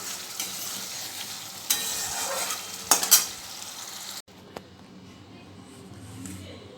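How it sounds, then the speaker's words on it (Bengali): Egg curry sizzling in a pan while a spoon stirs it: close scraping and clinking strokes over a steady frying hiss, then the sizzle quiets as the pan is taken off the heat. "দুটো ডিমের কারি করে নিলাম হয়ে গেছে এবার নামিয়ে নেব"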